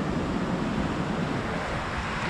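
Sea surf rolls continuously onto a Namibian beach lined with black birds, a steady, loud wash of breaking water and wind noise with no voices.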